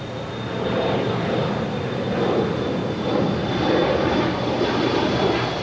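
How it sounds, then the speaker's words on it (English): An Air Canada Airbus A330-300 arriving from Toronto lands on runway 25L at LAX, its engines giving a steady, broad roar with a faint high whine that stays constant and fairly close throughout. "Just landing on 25 left was that 787 flight number on this A330-300 coming in from Toronto into Air Canada"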